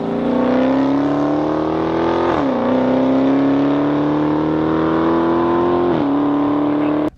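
A 2015 Dodge Charger SRT Hellcat four-door sedan engine revs loud and close, a steady high-pitched supercharged drone climbing in pitch, dipping briefly twice as if shifting gears, then cutting off abruptly at the end.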